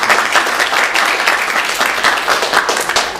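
Church congregation applauding at a Sunday worship service, a dense, steady wash of clapping throughout, fairly loud and continuous with no talk over it.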